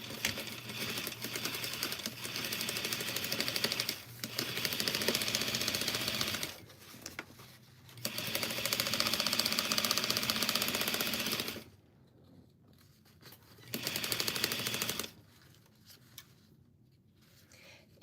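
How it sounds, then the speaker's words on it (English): A sewing machine stitches a garment sleeve in steady, rapid whirring runs that stop and start, close and fairly quiet, with short pauses between seams and no talking. "let's sew this other sleeve"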